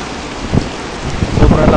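Dense, roaring heavy rain pours steadily on a coffee farm with strong gusty wind rushing through, loud and close, swelling toward the end.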